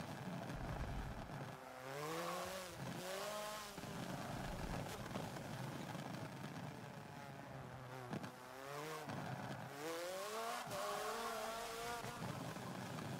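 A race car engine in Forza Motorsport 7, revving and shifting through rising, buzzing pitch sweeps with crackles and pops on the throttle, steady and close throughout, with no voices.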